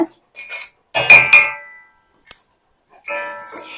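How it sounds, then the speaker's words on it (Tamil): Amla powder roasting with mustard seeds in a pan, heard as a few separate bursts of metal scraping and clinking from a spoon against the pan, with short gaps of quiet between them. "இந்த கடுகோட சேர்த்து இதையும் நம்ம வறுத்துக்கலாம்."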